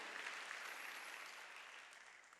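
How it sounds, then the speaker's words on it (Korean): Congregation clapping during a Korean church Sunday worship service, a faint, even wash of applause from a large room that tapers off gradually. "박수."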